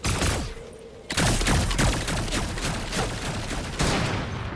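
Rapid bursts of gunfire in the Fortnite battle royale game, loud and dense, with repeated shots and sharp cracks running almost the whole way through, and a brief lull near the start before the firing surges again.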